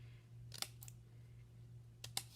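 Scissors snip paper while cutting fringe into a paper feather, two close, quiet pairs of crisp clicks separated by a pause over a low hum.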